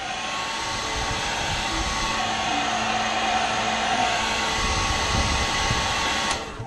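A heat gun blowing steadily on freshly brushed white paint to set it, giving a constant close airy roar with a faint whine that stops abruptly near the end, with no talking.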